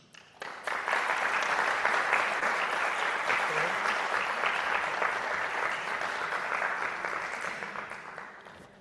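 Applause from an audience at a civil and criminal oral-procedure course, rising quickly after a brief pause into dense, sustained clapping that holds steady for several seconds before slowly thinning out.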